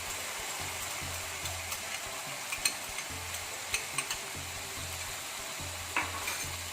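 Chilli chicken fries restaurant style as sugar, black pepper and sauces are stirred in. A constant hiss of sizzling runs throughout, with occasional scrapes and clinks of a utensil against the pan and a low hum underneath.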